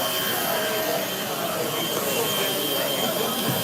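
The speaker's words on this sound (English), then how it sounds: "Detail sander." Milwaukee detail sander running steadily, a dense, loud whirring buzz with a constant high whine that holds without a break, close to the listener.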